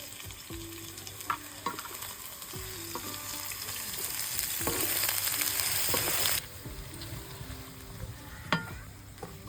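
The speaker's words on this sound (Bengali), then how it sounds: "ফোড়নগুলো একটু ভেজে নিয়েছি এবার পেঁয়াজ কুচি দিয়ে দেবো" Chopped onion sizzles in hot oil with whole spices for a mutton curry, a loud, continuous frying hiss broken by repeated scraping stirs of a spatula against the pan, with no voices.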